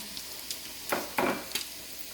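Onions dropped onto pork in a hot pan give a few quick sizzling bursts, close and moderately loud, against a quiet background with no talking.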